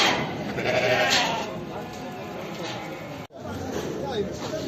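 Sheep bleat at a busy outdoor livestock market in Kadirli, calling amid a dense crowd of traders talking and haggling loudly around them.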